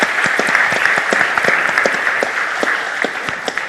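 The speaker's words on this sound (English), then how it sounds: "I think he deserves a round of applause" An audience at a law school competition final round gives a round of applause, loud and close, with individual claps standing out over a steady dense clatter lasting several seconds.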